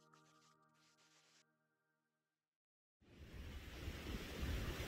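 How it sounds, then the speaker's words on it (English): A river flowing beside a campsite in Colorado, heard as a broad steady rush of water that swells in loudly and continuously after a brief musical passage fades to silence. "the sound of the river was calming"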